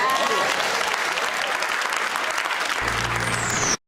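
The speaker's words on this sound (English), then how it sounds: "everybody's applauding in the audience" An audience applauds loudly and steadily throughout, a dense wash of clapping from a crowd that cuts off abruptly at the end.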